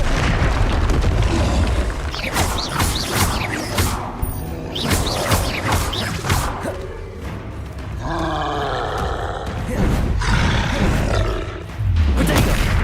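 Repeated Bombarda blasting-spell explosions in the Hogwarts Legacy video game, loud booming roars and bursts recurring through the clip amid dense game sound effects.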